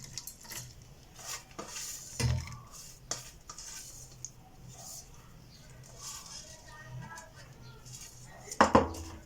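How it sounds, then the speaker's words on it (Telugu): Ugadi pachadi ingredients, including neem flowers and jaggery, are stirred together in a bowl, with steady scraping and clinking of a utensil against the dish and a louder knock near the end. "ఇప్పుడు అన్నీ వేసేసి కలుపుకుందాం."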